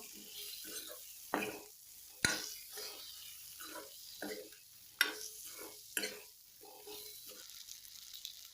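Turmeric and boiled potatoes being stirred in a frying pan for a vedailota curry, with a quiet sizzle and a run of scraping stirs plus a few sharp clinks of the spoon against the pan.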